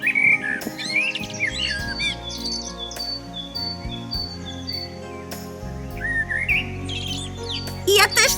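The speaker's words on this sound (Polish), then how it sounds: "O, słyszysz? Ptaki zaczynają śpiewać." Several birds sing and chirp in spring, bright varied whistles and tweets repeating through the clip over a soft steady background.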